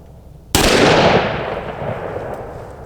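A single booming shot from a Smith and Wesson 460 XVR revolver loaded with 454 Casull rounds, fired at 2-liter bottles outdoors: a sharp, loud blast followed by a long rolling echo that fades slowly.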